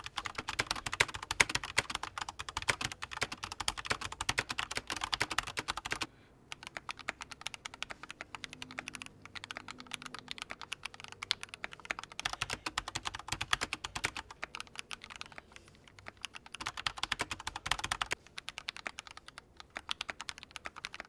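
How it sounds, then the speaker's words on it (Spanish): Steady close-up typing on a handmade mechanical keyboard with lubricated stabilizers, dense rapid keystroke clacks with one brief pause, no talking. "la experiencia de teclado, básicamente en contra de uno de los mejores teclados del mercado, vendría siendo algo así"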